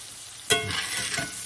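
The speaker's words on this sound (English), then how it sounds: "So while this working, we'll get it another stir." A spoon stirs a cream sauce for smothered chicken in a hot cast iron skillet, giving a single scraping clatter over a soft, continuous sizzle.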